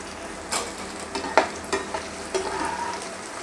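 Pieces of colocasia sizzle in hot oil as a slotted ladle lifts them out, with a steady soft frying hiss punctuated by a few clinks and scrapes of the ladle, no voices.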